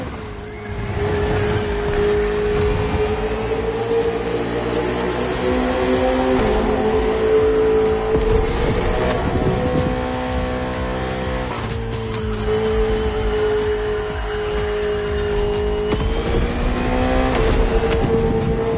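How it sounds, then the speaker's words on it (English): A KTM RC16 motorcycle and a 600-horsepower Ferrari 488 GT3 race on a circuit in The Crew Motorfest, their engines roaring continuously with rising and falling revs and gear-shift pitch swings, loud and close throughout, with no talking. "On track this evening, the KTM RC16 takes on the Ferrari 488 GT3."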